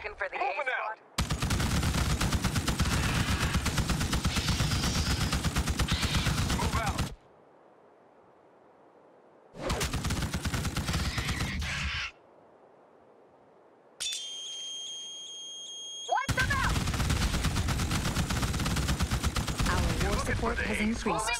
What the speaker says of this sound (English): A lot of machine gun fire going on here.